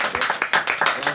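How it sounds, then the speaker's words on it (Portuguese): A church congregation claps during a Portuguese-language service, a run of quick rhythmic claps in bursts, with voices mixed in under the clapping. "Dê uma linda salva de palmas no nome de Jesus."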